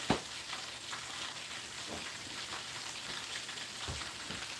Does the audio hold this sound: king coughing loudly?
no